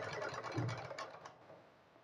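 A sewing machine stitches cloth at an even margin during a tailoring lesson, a steady low mechanical whir that runs for about a second and a half before fading, with no talking.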